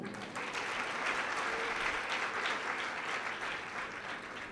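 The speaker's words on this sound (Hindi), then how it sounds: "यहाँ महिलाओं के लिए और बच्चों के लिए तालियां बजाइए" A gathered crowd at an outdoor religious foundation-stone ceremony claps steadily for several seconds, a dense, moderately distant patter of many hands without voices standing out.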